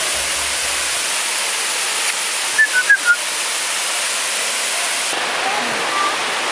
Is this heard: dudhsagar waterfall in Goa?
yes